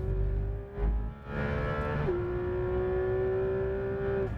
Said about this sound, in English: The sound of the screaming Porsche flat six reverberating through the empty grandstands is just awesome.